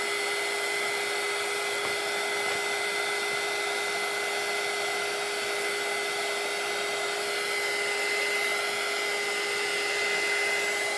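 A hair dryer blows steadily on a t-shirt, a loud, constant whirring hum with a fixed whine, running alone without interruption for the whole stretch.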